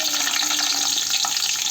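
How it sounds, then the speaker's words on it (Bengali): Onions fry for chicken biryani in a pan with cardamom, bay leaf and garam masala, giving a dense, loud, unbroken hiss that stays close, with no speech. "পেঁয়াজ দিচ্ছি।"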